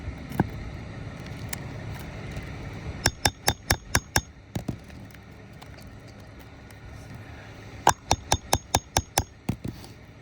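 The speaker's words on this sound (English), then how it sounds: "I'm going to try to go ahead and use this hammer. See if I can get it to come out." A hammer strikes a roofing nail to work it loose, two bursts of sharp, ringing metallic taps, about six quick blows each, close and loud over a quiet outdoor background with a few isolated knocks.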